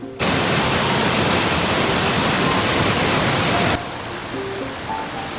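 A waterfall in the hills, its dense, constant rushing roar close and loud, then suddenly dropping to a softer, more distant wash for the last stretch.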